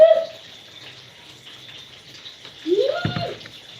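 Water runs from a kitchen tap in a steady splashing hiss, with a brief squeak of the faucet handle near the end as the flow changes. No talk.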